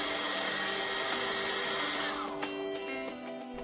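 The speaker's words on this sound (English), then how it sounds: "Using a hairdryer, heat the display surface for 1 or 2 minutes" A hair dryer blows hot air onto an iPhone display to soften the glue, giving a steady, close, continuous whooshing drone that dips slightly near the end, with no talking.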